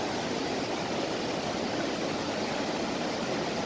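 A fast-flowing mountain river swollen with high water rushes in a constant, even roar, close and unbroken with no pauses or voices.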